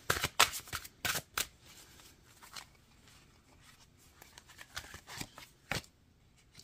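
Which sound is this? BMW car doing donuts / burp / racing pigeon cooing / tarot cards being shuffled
tarot cards being shuffled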